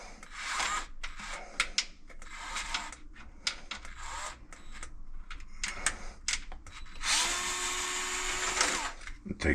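A power drill backs screws out of a kitchen countertop sink, with short whirring bursts and a longer sustained run near the end, close and fairly loud, while a person talks between bursts.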